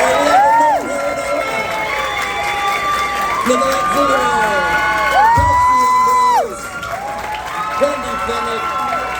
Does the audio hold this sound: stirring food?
no